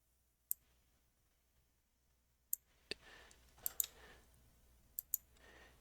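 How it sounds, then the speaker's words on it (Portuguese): Sharp clicks from a computer mouse, heard close and faint in a quiet room. About eight isolated clicks are spaced irregularly, some in quick pairs, with light handling noise between them. "simplesmente clicando em cima dele e arrastando com o mouse"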